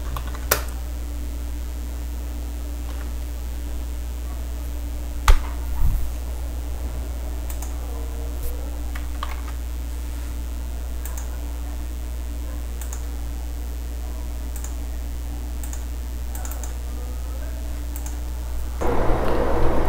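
A username is typed on a computer keyboard while logging into a Windows domain server. A few scattered, sharp keystroke clicks stand out over a steady fan hum in a quiet room.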